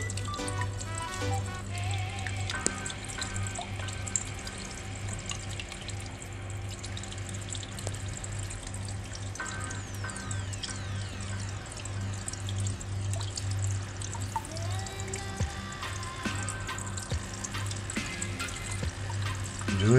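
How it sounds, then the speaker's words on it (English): Liquid drips and trickles steadily through an in-line filter, a continuous wet dribbling with small irregular drops over a constant low hum, close and fairly quiet throughout. "Dripping, dripping, dripping all the time."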